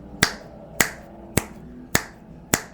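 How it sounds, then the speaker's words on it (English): Five sharp finger snaps, evenly spaced about half a second apart, close and crisp over a quiet room with no talking. "That was me snapping my fingers 5 times."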